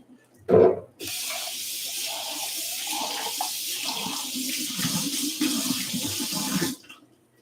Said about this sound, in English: Got a nice hot sink of fresh soapy water.